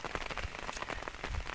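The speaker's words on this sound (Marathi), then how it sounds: "म्हणजे 2 दिवस चालू आहे लगातार पाऊस" Steady rain falls on farm fields near a Chhatrapati Sambhajinagar village after two days of continuous downpour, a soft, even patter and hiss of drops with no voices.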